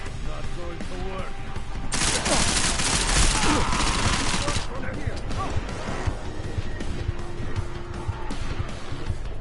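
Gunfire in the video game Deus Ex Mankind Divided: a dense, loud burst of shooting and crashing action dominates the middle, with game noise and a voice running throughout.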